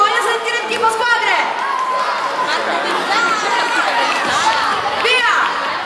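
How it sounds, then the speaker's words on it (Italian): Youth teams at a summer children's camp race in Cefalù cheering, an excited crowd of young voices shouting and chattering continuously, loud and close. "Voglio sentire il tifo, voglio sentire il tifo, squadre!"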